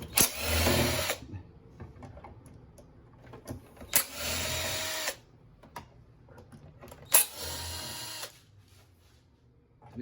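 An electric screwdriver backs out long, tightly torqued screws from the outer panels of a coffee machine, whirring in three separate bursts of about a second each, with quiet handling noises in the pauses.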